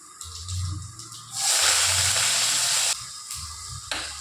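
Onion and curry leaves sizzling in hot oil while tempering for a traditional spinach sambar, a steady close hiss that swells loudly midway with low thumps and clatter of the pan underneath.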